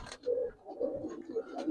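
Pigeons, silver-colored Giribaz and coloring birds, coo in a series of low, rolling calls close by, with a brief pause partway through.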